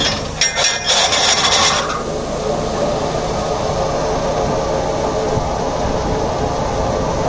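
A Deutz-Fahr Agrolux 80 CRDI tractor drives a Maschio shredder from its PTO at 540 RPM, making a loud, steady mechanical roar with a brief harsh burst near the start before it settles into an even, continuous drone.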